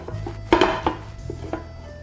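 A pan with a plate held on top is flipped to turn a Spanish tortilla, giving a few close clattering knocks of metal and crockery spread across two seconds, the loudest in the middle.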